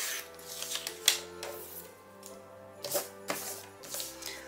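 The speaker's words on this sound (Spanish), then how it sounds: "Voy a coger la cizalla y le voy a quitar los márgenes blancos de tres de los lados" Paper shears, a guillotine-style cizalla, slicing white margins off book pages for Christmas decorations: several short, crisp cutting snaps spaced a second or two apart over a soft, steady tonal background.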